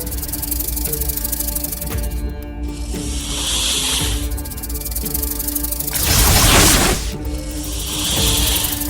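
Dramatic hissing snake sound effect in a Tamil TV serial scene, the snake slipping under a table: bursts of loud hiss swell and fade over a droning music bed, the strongest burst near the end.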